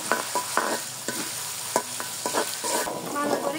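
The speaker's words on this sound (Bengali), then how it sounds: "বেশ কিছুটা পেঁয়াজ কুচি, দিয়ে দিব রসুন বাটা, আদা বাটা, ভালো করে একটু কষিয়ে নিব।" Chopped onion with garlic paste and ginger paste frying and being stirred in a pan for a chicken curry, a steady sizzle broken by repeated sharp scraping strokes of the spoon.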